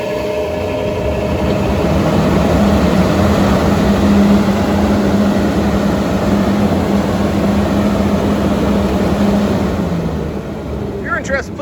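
A 3 HP fiberglass plastic exhaust blower wired for 480 volts and rated at 1700 RPM runs with a loud, steady roar and a constant droning hum that eases off near the end.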